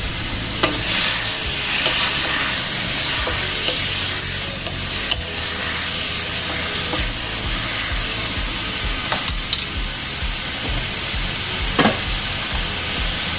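Papaya stir-frying in a pan sends out a steady, loud sizzle, with scraping stirring strokes and occasional clicks of the utensil close by and no voices.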